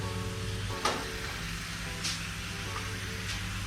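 Rice bran oil sizzles steadily in a hot pan at the start of a sauce, a constant close frying hiss with a few brief louder crackles and no voices.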